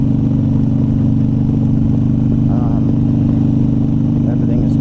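A motorcycle engine runs steadily at a low, even drone during a test ride on a newly installed rear tire, with a faint higher whine rising briefly midway.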